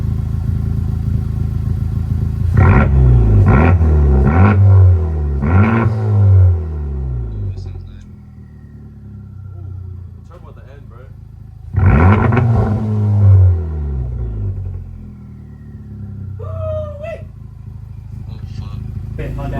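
A Honda Civic Type R fitted with a Tomei Type D exhaust revs in two loud, throaty bursts of several blips each, close by, with quieter idle between and a voice talking briefly.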